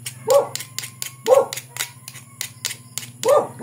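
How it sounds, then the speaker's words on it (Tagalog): A dog barks sharply as someone arrives at a home workshop, three loud bursts spaced about a second apart over a steady low electrical hum and faint clicking. "Tumawal na yung aso natin. Kasi may dumarating."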